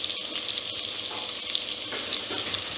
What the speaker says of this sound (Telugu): సో ఈ అల్లం వెల్లుల్లి బాగా వేగిపోయిన తర్వాత కొంచెం కరివేపాకు అయితే వేస్తున్నాను